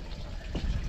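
Water with small shiner baitfish poured quickly into a bucket, producing a short, close gushing splash.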